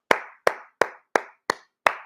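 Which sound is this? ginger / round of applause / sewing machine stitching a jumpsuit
round of applause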